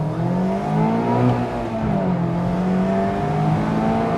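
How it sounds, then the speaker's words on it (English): A Mazda MX-5 ND2 engine revs with a steady, close drone whose pitch rises and dips slightly, running unbroken for about four seconds with no talk. "I love how this engine revs."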